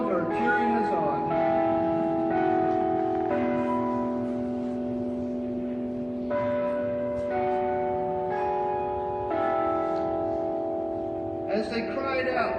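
Church bells ring during an outdoor Easter sunrise service, sounding as a series of sustained, overlapping tolls struck roughly every second, fairly steady and prominent with soft background sound.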